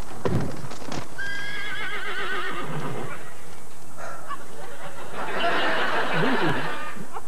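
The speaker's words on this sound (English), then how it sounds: "There's a horse!" A horse whinnies loudly with a long wavering neigh, followed by a second neigh and snorts, with hooves clip-clopping near the start, all close and prominent without speech.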